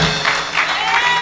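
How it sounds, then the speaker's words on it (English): A church congregation claps during a sermon, loud dense clapping and cheering in a short burst. "Somebody give the Lord a clap offering."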